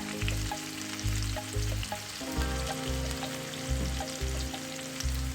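Finely chopped onion, about one medium onion, frying in hot oil for a Punjabi dhaba-style dal tadka, giving a steady close sizzle with pulsing low stirring and scraping sounds and no talking.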